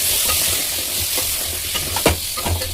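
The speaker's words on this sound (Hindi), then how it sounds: "अब मैं इसमें डाल दें चिकन डालती हूँ, थोड़ी मिला ले रही मैं।" Chicken stirred into fried onions in a hot pan: a dense, loud sizzle with spoon scrapes and a clunk near the end, no talking.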